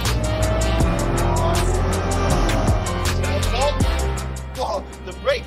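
Ferrari F80 supercar on a race track, its engine droning steadily while tyres squeal and skid through corners, loud and close, with talking over it.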